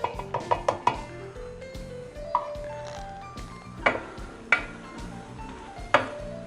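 Flour being stirred into softened vegetables in a pot for lobster and shrimp chowder, with a spoon scraping and clinking against the pot in irregular knocks, close up and with no talking.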